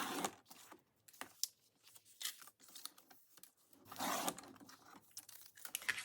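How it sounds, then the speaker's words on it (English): Scissors cut through Amazon packaging paper in a quiet, close series of irregular crisp snips and rustles, separated by short pauses. "So let me go ahead and cut this."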